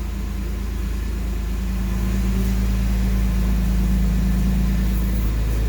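A Porsche 911 996 engine runs at a steady idle nearby, a continuous low hum with a faint rhythmic pulse and no talking.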